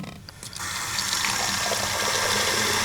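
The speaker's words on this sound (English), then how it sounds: "by really not making the plastic any smaller, but filling it with water." Water gushes into a plastic tube, starting abruptly after a brief quiet moment and then continuing as a steady, close filling rush.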